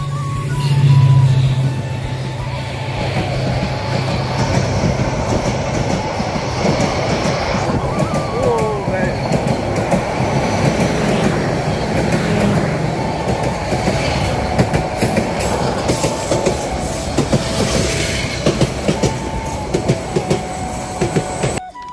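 A train rumbles past close by, steady and loud throughout, with rhythmic clattering of wheels on the rails.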